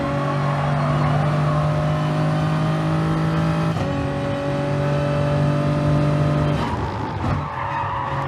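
Race car engines in Gran Turismo Sport during a daily online race on the Sainte-Croix track, a loud steady high-revving engine drone with tire squeal and gear shifts, continuous and close with no talking.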